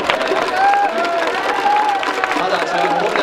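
A Japanese baseball stadium crowd at a Hiroshima Carp versus Yokohama game cheers and applauds steadily around a hero interview with two players, with a distant, continuous roar, and an amplified voice speaks over it.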